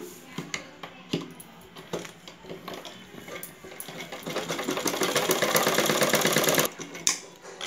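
A sewing machine stitches the lining of a basket sleeve, starting with a few separate knocks, then running into a close, steady rapid whir that speeds up before stopping with a couple of clunks.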